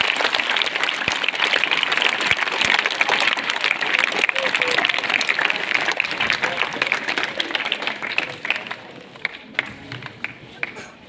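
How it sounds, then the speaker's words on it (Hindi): Loud, sustained applause from a seated audience at a school patriotic-song event, dense clapping running nearly the whole time and thinning toward the end, with some voices mixed in. "आप सभी की तालियों के बीच में आमंत्रित करता हूं, जोरदार तालियां एक बार"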